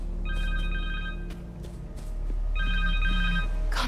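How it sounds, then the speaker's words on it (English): In Marvel's Spider-Man 2, a cell phone rings twice in short, bright electronic bursts separated by a brief pause, standing out clearly against a constant low rumble of game ambience. "Phone."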